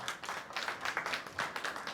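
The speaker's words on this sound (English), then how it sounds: "A round of applause for her." Brief applause from a small audience at a business forum, a quick run of distinct claps, fairly faint and without voices.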